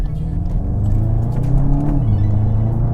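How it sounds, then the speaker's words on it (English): A 2021 VW Golf GTI MK8 under way, its turbo and dual-tip exhaust giving a loud, continuous close engine drone with a rising and then falling tone as it accelerates, no talking. "Beautiful turbo whistle with a beautiful sounding exhaust as well from those dual tips at the back."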